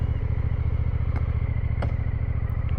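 An A2-licence motorcycle engine runs close by with a steady, low, rhythmic thumping pulse, with a couple of faint mechanical clicks over the constant beat.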